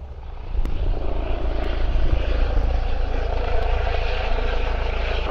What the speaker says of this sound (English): You can take a pleasure flight